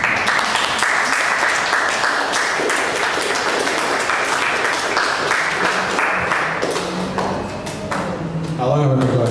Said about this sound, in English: It's the part where you clap.